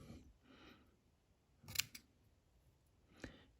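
Sharp scissors snip fiber material while a baitfish fly is tied, giving a few quiet, separate cuts with pauses between them and no talk over them.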